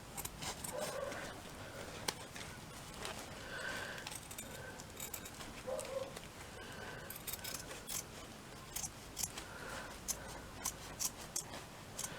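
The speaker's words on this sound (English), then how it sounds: "what I'm going to do is just to trim around the edges of this" Scissors trim around the edges of a fabric Victorian millinery flower patch. Quick, close snips and small cuts repeat steadily throughout, alone, with no voices.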